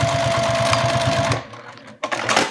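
A sewing machine runs steadily while stitching the side seam of a zipper wallet, a fast even mechanical whir that stops halfway, then bumps and handling noises follow.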